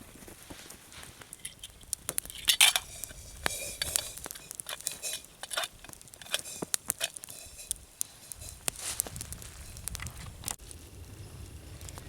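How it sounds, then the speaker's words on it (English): A pot boils over a cooking fire at a soldier's Thanksgiving meal and gets a quick stir. Irregular clinks, scrapes and knocks of a utensil against the pot sound close, over a bubbling, crackling background. "A little stir to make sure everything's boiling nicely."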